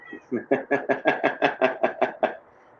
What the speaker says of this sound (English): I hear a cat. Yeah, she's chirping at me here.